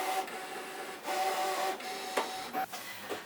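A fabric cutting machine draws stitch lines on quilt fabric, giving a steady mechanical whirring hum with repeated faint shifts and short clicks as the carriage moves, close and alone with no voices.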